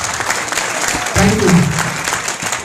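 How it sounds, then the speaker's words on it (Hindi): Loud applause from an audience in a hall at a business event, a short burst of dense clapping with a brief low murmur partway through. "एक बार जोरदार तालियां।"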